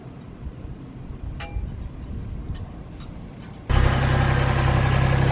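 A boat's diesel engine, its injectors sputtering, turns over amid clinks and then catches, settling into a loud, steady running rumble heard up close.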